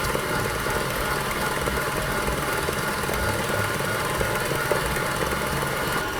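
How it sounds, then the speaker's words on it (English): A stand mixer whisks egg whites with hot sugar syrup for peppermint macarons, giving a steady, loud mechanical whir that runs unbroken from start to end with no talking. "we're going to whisk it for about 5 minutes, just until it's cooled down to room temperature"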